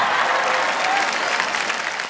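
An audience at a Hindi comedy poetry show applauds, a dense and loud wash of clapping from a sizable crowd that holds steady and fades slightly at the end.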